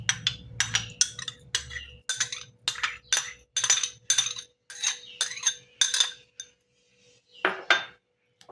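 100 grams of yogurt spooned into a pan for a soybean curry: about a dozen sharp metallic clinks and taps of a spoon against the vessel, close and crisp, then a short pause and one last tap, with no talking.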